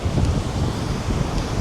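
Steady wind and surf at Vagator Beach in Goa, a broad continuous roar that stays close and loud for the whole stretch with no voices over it.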